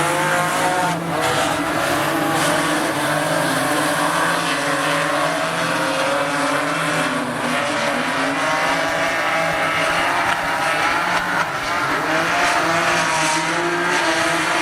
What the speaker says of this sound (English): you can hear the rev limiter popping in that machine